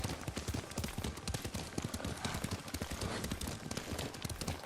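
Horse hooves clip-clop in a quick, steady gallop while riding in the video game Ghost of Tsushima, a continuous close rhythm of thudding hoofbeats with faint background ambience.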